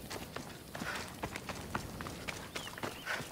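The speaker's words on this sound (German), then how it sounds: "Da kommt das Pferd dann, meinst du?" Horse hooves in the video game Assassin's Creed Odyssey, a rapid run of clip-clopping beats on the ground, fairly close and moderately loud with no talk over them.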